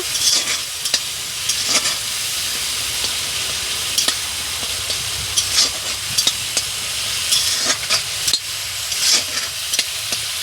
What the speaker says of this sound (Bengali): অল্প একটু হলুদ এটাকে ভালো করে কষিয়ে নেব